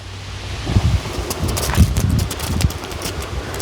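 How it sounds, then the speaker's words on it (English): Outdoor wind gusts during a backyard fireworks show, buffeting the microphone in soft rumbling bursts with light rustling, no voices. "Now the wind's picking up a little bit just as we're starting these fountains."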